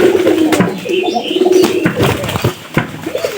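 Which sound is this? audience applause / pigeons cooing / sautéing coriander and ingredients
pigeons cooing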